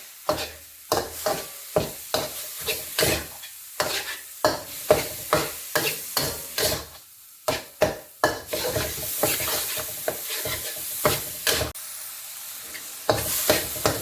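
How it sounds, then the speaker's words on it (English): Turnip for Chinese turnip cake is stir-fried in a pan: a steady sizzle punctuated by repeated rhythmic scrapes and clanks of a spatula against metal, close and prominent throughout. "chuck the turnip in and stir fry it"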